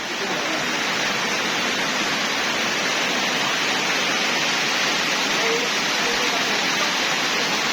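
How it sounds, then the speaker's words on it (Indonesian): Heavy rain pours down outdoors in a steady, dense hiss that stays loud and unbroken throughout. "Hujannya lebat."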